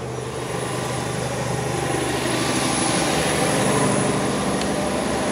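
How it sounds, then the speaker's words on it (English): Biogas-fuelled engine at an anaerobic digestion plant on a dairy farm, a loud continuous mechanical drone with a steady tone, heard close with no voices. "gas is driving the engine, basically."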